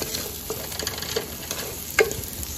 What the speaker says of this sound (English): You can put in your onions.